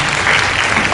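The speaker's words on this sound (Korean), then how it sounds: "한 박수로 다시 한번 감사드리겠습니다" Audience applause at a high school freshman lecture in Gangneung, a full, steady burst of clapping from many hands filling the whole moment.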